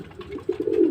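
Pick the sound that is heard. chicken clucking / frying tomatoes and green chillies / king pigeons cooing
king pigeons cooing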